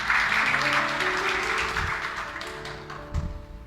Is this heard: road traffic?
no